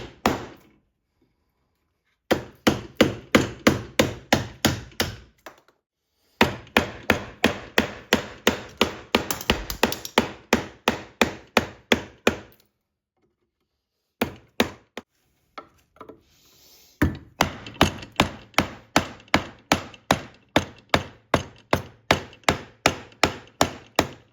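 A new Harvester knife chops into a 2x4 piece of wood, each stroke landing as a sharp, close woody thwack. The blows come in quick, steady runs separated by short pauses.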